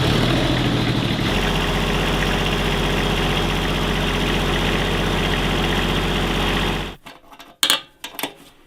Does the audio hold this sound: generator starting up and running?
yes